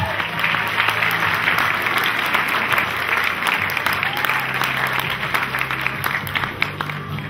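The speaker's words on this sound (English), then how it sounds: "Applause, everyone." An audience applauding at a family house concert, steady close-up clapping from a small group running evenly throughout with a faint tonal hum underneath.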